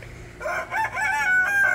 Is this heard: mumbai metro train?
no